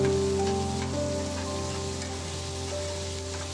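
Onion and tomato frying together in a pan with salt, a constant close sizzle and crackle with a steady low hum beneath it and no talking.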